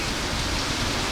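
Heavy rain pours down on a car whose roof lining has been removed, making a dense, even, hissing drum that stays constant and loud throughout, with no talking.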